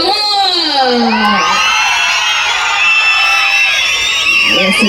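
A school crowd of children at an annual day event cheers and shouts, with a loud continuous wash of young voices and whoops throughout.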